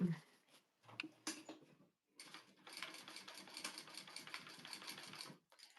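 Sewing machine basting fabric at a long stitch length, a few short starts and then a steady rapid stitching run of several seconds, close and clear.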